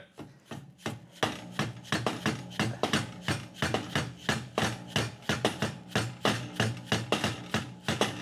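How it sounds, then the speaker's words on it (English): A hammer taps a BSA motorcycle fork crown in a workshop, a steady run of close, sharp knocks in quick rhythm, with no talking. "you tap it a little bit"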